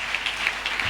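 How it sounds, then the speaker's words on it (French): Church congregation applauding during a Sunday service, a short burst of steady clapping heard at moderate volume with no voices. "Donnez une acclamation au Seigneur."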